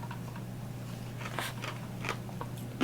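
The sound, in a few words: chewing beans in a Chowking dessert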